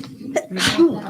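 A single sharp sneeze bursts out, loud and close, preceded by a brief intake of breath.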